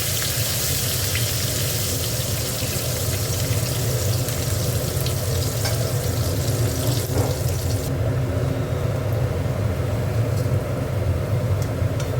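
Onions frying in hot oil in a pan, giving a steady, dense sizzle with a low rumbling undertone that holds evenly throughout. No one talks.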